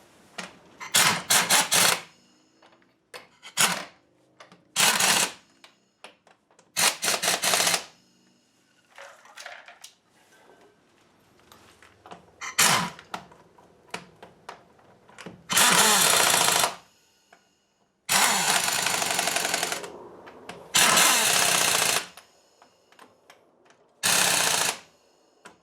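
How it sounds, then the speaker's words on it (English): An air impact hammer rattles lug nuts onto a 2004 GMC Sierra 1500 wheel in a run of loud, separate bursts with short quiet gaps between, close by with no talking. "get my impact hammer, air hammer, and we'll get those lugs put on"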